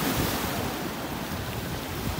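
Sea waves wash onto a city beach, with a steady, loud rush of surf and a breezy hiss that carries on without a break.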